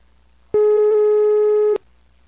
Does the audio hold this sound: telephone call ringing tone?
yes